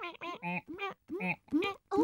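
A voice imitates ducks with a run of short nasal quacks, about seven in quick succession, close and clear.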